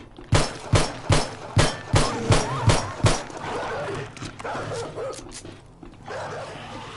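A dog in the video game 7 Days to Die barks in a rapid series of about ten sharp, evenly spaced yaps, then fades into ambient game noise.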